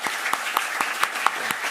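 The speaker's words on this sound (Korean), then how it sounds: "우리 격려의 박수" A church congregation claps in encouragement for newly appointed deacons and officers at a Sunday worship service, steady applause for nearly two seconds with a few sharper claps standing out.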